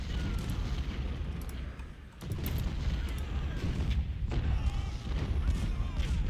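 Cannon fire in the Civil War strategy game Ultimate General: Civil War: a deep, rolling stream of low booms and rumbling blasts, with a short dip before the barrage swells again.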